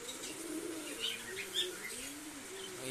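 Pigeons coo faintly and steadily inside a loft during stormy monsoon rain, with soft low murmurs and a few brief wing flutters at a distance.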